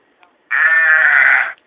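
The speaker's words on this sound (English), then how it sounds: "This one's sheep." A single sustained sheep bleat, about one second long, plays loud and clear from a novelty sound-effect button box, with a faint click before and after it.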